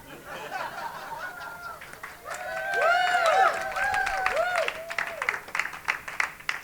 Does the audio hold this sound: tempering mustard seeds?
no